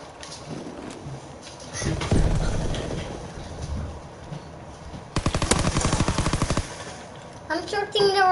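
Video game gunfire: a short burst around two seconds, then a long rapid automatic volley, loud and close, with talking in the background.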